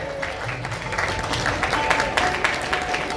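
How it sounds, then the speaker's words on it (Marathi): Crowd at an outdoor rural village gathering and felicitation ceremony applauds to welcome the village sarpanch, a dense, continuous patter of many hands over a murmur of background noise. "एकदा जोरदार टाळ्यांनी स्वागत गावच्या सरपंच महोदया"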